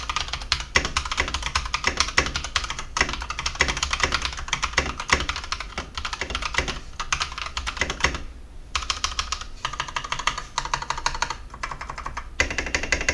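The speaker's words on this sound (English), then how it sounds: "this keyboard actually has the really special Akko orange switches, so let's get a sound test." Rapid, continuous clacking of an Akko 3108 mechanical keyboard with Akko orange switches, close and crisp, with a short pause partway and heavier thocks from larger keys, including a firm space bar.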